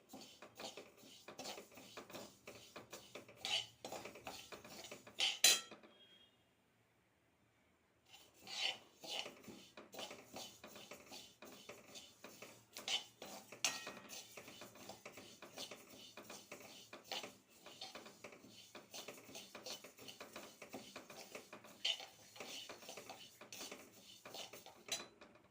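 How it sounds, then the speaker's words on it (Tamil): Olive seeds roasting in a pan over low heat, stirred steadily with a utensil: continuous dry rasping and scraping against the pan with small clinks, one brief pause midway, close and fairly soft. "இது கொஞ்சம் சிம்மிலேயே வைத்து பொறுமையாக வறுக்க வேண்டும்."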